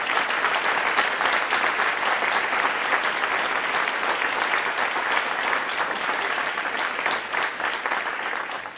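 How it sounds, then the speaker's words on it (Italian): Audience applause at a choir concert, a dense, steady wash of clapping that holds loud throughout before easing slightly at the end. "Un grandissimo applauso al mio carissimo amico cappellano della Scuola Militare Alpina, Don Flavio Riva."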